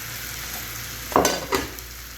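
Fried okra in masala is stirred in a pan with a couple of distinct scraping stirs over a soft steady sizzle, close and alone.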